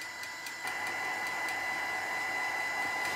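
A heat tool blows steadily on gel medium coating a rustic winter craft bottle, a loud continuous airy whir with a brief dip early on before it settles into an even drone.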